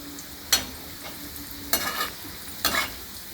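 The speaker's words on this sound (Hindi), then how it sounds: "ये कोफ्ता हमारा तला गया" Bottle gourd kofta fry in hot oil with a soft, steady sizzle, broken by three sharp bursts of louder crackle and spatter as the pieces are moved; no one talks.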